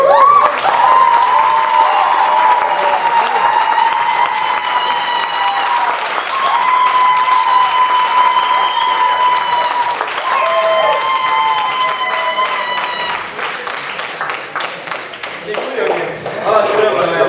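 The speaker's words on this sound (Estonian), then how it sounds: "aplaus palun!" Sustained applause from an audience at a school Christmas party, dense and loud throughout, with a voice calling over the clapping partway through.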